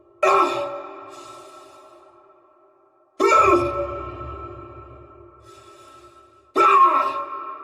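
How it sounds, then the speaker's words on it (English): Heavy, drawn-out breaths from a Dead Space character: three sharp exerted inhales, each trailing off into slow, echoing base breathing, with a low rumble under the middle one. The breaths are close and loud, with no talk. "The exerted breaths didn't interject the base breathing."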